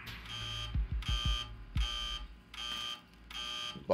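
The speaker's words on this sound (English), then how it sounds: "Buzzers." Repeated electronic buzzers sound in bursts of about half a second with short gaps, fairly loud and close, over low thumps and no talking.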